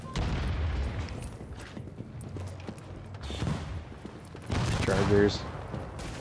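Enemy machine gunners firing in The Division, bursts of gunfire and booms from the game under tense voice chat, a heavier burst swelling near the end.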